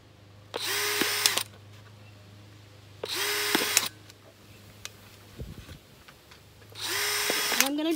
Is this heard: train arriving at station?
no